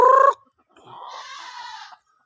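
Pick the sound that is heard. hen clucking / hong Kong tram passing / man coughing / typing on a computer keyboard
hen clucking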